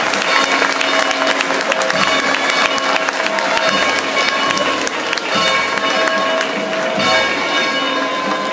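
Dense crowd applause at the San Pedro de Alcántara saint's day fiesta, sustained and loud across the whole stretch, with crowd noise and a bell-like ring mixed in.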